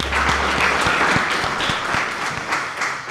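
An audience at a trading seminar breaks into applause, steady close clapping with distinct individual claps punctuating the crowd sound throughout a few seconds.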